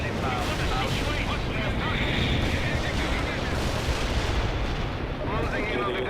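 Anti-tank missile strike explosions rumble in World in Conflict, a dense, continuous roar of blasts and artillery-like booms filling the battlefield, with radio voices talking over the din.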